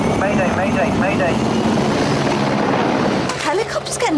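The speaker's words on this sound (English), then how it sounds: "Helicopter's getting a bit close" A helicopter flies close overhead in a TV drama scene, its loud thudding rotor and engine roar filling the whole stretch, with voices briefly heard near the end.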